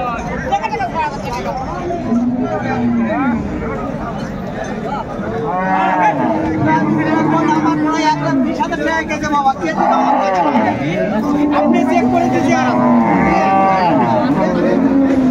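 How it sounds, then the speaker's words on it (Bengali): Cows and calves moo repeatedly, loud and close, over a steady background of crowd chatter and babble at a cattle market. "সুন্দর গাভী বাছুর আমরা দেখছিলাম"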